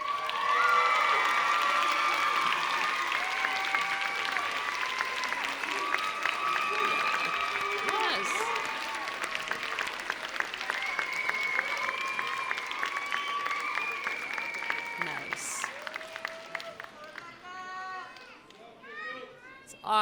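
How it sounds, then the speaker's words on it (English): A graduation audience at a nursing school ceremony in Tempe applauds the graduates' families and friends, loud sustained clapping and cheering with a few voices over it that fades toward the end. "give them a round of applause"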